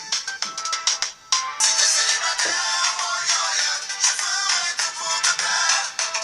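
Phone ringtone playing a summery song: bright, continuous music with a rhythmic beat, loud and steady for several seconds with no talking.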